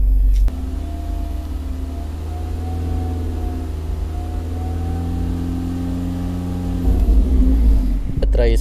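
A car engine is held at about 2500 RPM for a battery charging load test, producing a loud, steady, close droning hum that rises slightly in pitch before a louder rumbling surge near the end.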